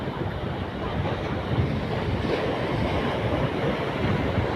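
Sea waves crash against rocks at the shore as the tide goes out, a steady, loud roar of surf with wind buffeting the microphone throughout and no pauses.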